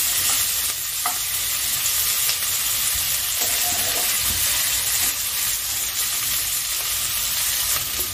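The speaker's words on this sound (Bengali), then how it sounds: "পেঁয়াজটাকে একটু হালকা ভেজে নিচ্ছি।" Onion fries lightly in a pan with a steady, soft sizzle and occasional stirring scrapes, close and continuous without any talk.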